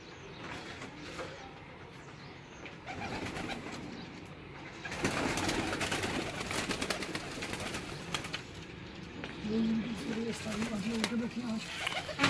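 Pigeons coo on a Multan rooftop during a pigeon-flying competition. The soft, repeated cooing sits under steady background noise and people talking nearby.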